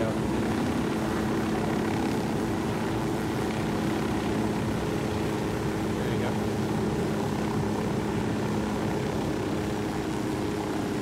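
A helicopter flies in the video game Ghost Recon Wildlands, giving a constant loud rotor and engine drone with steady chopping texture throughout, while a person talks over it.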